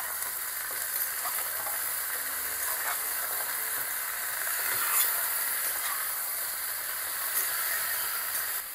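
Vegetables and ginger paste sautéing in a pan with salt, giving a steady, close frying sizzle and hiss throughout, with faint stirring scrapes and no talk.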